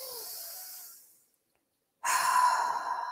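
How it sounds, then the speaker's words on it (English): A woman takes a big deep breath at the end of an EFT tapping session: a long, airy inhale fades out, then after a brief silence comes a strong, close, sighing exhale. "Take a nice big deep breath."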